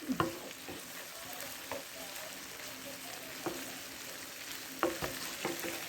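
Garlic and ground hamburger meat fry in a skillet with a steady soft sizzle, and a few sharp scrapes and clicks from stirring rise above it.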